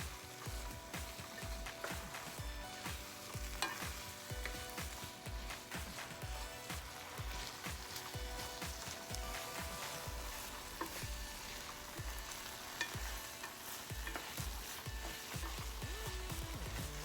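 Garlic shrimp with masala sizzles and fries in a pan, a constant crackling hiss broken by frequent scraping stirs at a steady, busy rhythm, close and fairly quiet.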